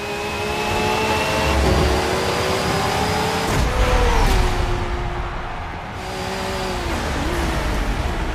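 A race car engine drones and revs in Forza Motorsport 7, holding a loud, sustained tone with pitch sweeps as it accelerates and shifts, along with tire noise and other cars close by.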